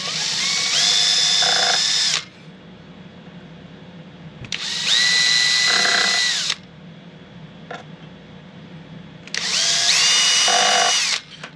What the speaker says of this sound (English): I'm going to take and drill a hole